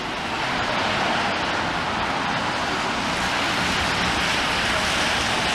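Steady, windless rain falls on a town street in Blackpool near Talbot Road, a continuous broadband hiss that holds an even level throughout and carries no talking.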